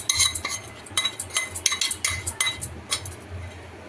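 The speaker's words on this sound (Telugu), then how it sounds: "ఇప్పుడు పోపు దీంట్లో వేసేసుకోవచ్చు" A spoon stirs tempering into pongal in a metal pot, making quick, repeated clinks and scrapes that sit close and steady throughout, with no talking.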